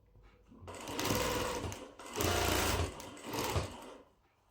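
A sewing machine stitches a decorative pillow in three loud, steady bursts of whirring, each lasting about a second with short pauses between, close up and with no talk.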